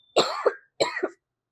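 Two close, loud coughs, one after the other with a short pause between, each harsh and throaty.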